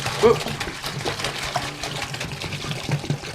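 About 15 litres of homebrew beer is poured and aerated as it falls into a vessel, giving a continuous splashing gush, close by, with someone talking over parts of it.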